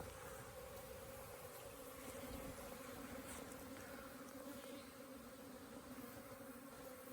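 Bees buzz steadily around a flowering tree as they gather pollen, a faint, continuous insect drone that carries on unbroken throughout.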